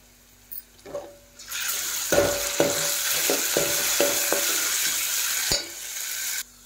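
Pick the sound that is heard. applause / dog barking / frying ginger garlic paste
frying ginger garlic paste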